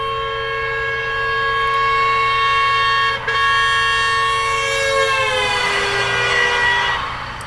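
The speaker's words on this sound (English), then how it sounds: "As the car moves towards, we have a higher frequency, and once it passes and starts moving away," A passing car horn holds a steady, loud harmonic tone, then its pitch slides audibly downward as the vehicle goes by, fading slightly into road noise at the end.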